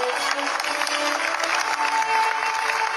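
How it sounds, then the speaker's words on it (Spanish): Audience applause at a school award ceremony in Colombia, continuous clapping from a crowd with a faint steady tone running underneath throughout. "Fuerte el aplauso, por favor."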